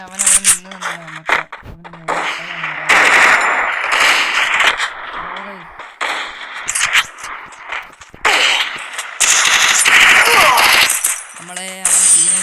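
Gunfire from a shooter video game sounds in rapid automatic bursts and single cracks, loud and close, broken by short gaps, with someone talking over parts of it.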